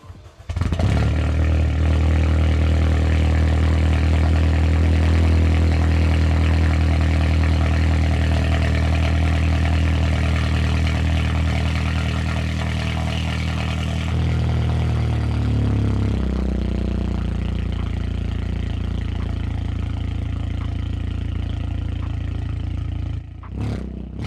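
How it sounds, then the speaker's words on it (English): A big-turbo Audi A4 car engine runs loud and steady throughout, holding a deep idle with a brief shift in tone partway through before settling again near the end. "Go ahead, start the car up."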